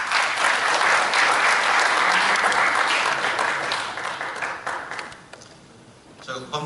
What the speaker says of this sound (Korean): 우리 김진환 회장님께 박수 한번 좀 부탁드리겠습니다.